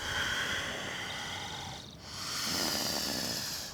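Slow nasal breathing during a yoga flow: a long, airy inhale-exhale pair with a brief pause between, close and steady, no talking over it.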